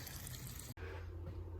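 Water runs steadily from a tap to water a grapevine, part of a gray water tank and sink plumbing setup; a faint, even rushing hiss breaks for an instant midway and then carries on.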